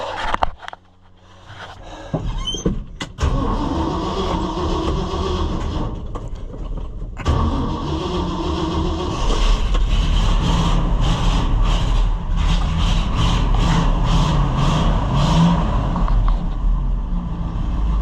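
A 1969 Ford F600 truck engine cranks briefly, catches and settles into a loud, steady idle that runs close and unbroken for over fifteen seconds, with a deep low rumble throughout.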